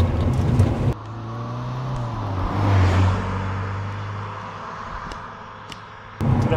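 A 2007 Mazda MX5 Roadster Coupe with a power retractable hard top cruises slowly along a road, its steady engine hum loud and close inside the car, with brief louder bursts at the start and end.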